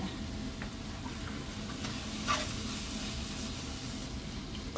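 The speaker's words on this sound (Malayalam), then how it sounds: "എന്നിട്ട് ഇങ്ങനെ വഴറ്റി കൊടുക്കണം." Chili powder, coriander powder and garam masala being sautéed in a pan for cauliflower masala, a soft, steady sizzle with faint intermittent stirring scrapes, fairly quiet throughout.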